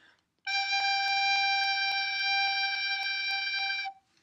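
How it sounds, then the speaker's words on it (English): A recorder sounds a single sustained G, steady and bright with a clear stack of overtones, lasting about three and a half seconds alone against near silence, with faint regular ticks running beneath it. "There's G."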